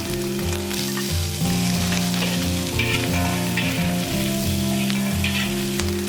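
Shrimp sizzles and crackles loudly in a hot wok while frying noodles, a steady frying hiss with occasional stirring scrapes, alongside a low tonal hum.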